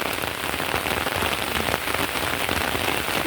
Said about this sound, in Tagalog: Diba yan, ang lakas ng ulan.